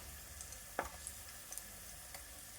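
Asafoetida fries in oil in a clay pot with a faint, steady sizzle broken by a few small pops and ticks, heard alone without talk.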